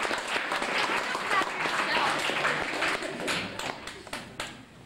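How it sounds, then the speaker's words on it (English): Banquet audience applauds a defenseman from a 2000 Atom AAA youth hockey team at a year-end wind-up, a dense, steady wash of clapping that thins into scattered claps near the end, with some voices mixed in. "we should have a big round of applause for Pat Thomas"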